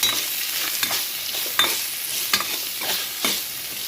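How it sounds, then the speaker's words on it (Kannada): Onions frying in oil and being stirred for a Muslim-style chicken fry, giving a steady loud hiss with regular sharp spatula scrapes against the pan, close up and without talk. "ಈಗ ನೀರುಳ್ಳಿ ಹಾಕ್ತೀನಿ ಈಗ ನೀರುಳ್ಳಿ ಹಾಕಿ ಒಳ್ಳೆ ಇದು ಮಿಕ್ಸ್ ಮಾಡಿ"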